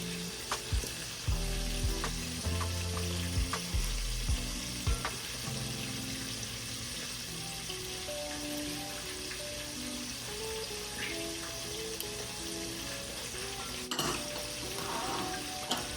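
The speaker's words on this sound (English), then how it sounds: "you want to give it a mix to break up the big clumps" Apricot preserves glaze, with optional cayenne and red pepper flakes, is stirred in a pan with a utensil, clinking and scraping against the metal over a low simmering sizzle, fairly quiet and close.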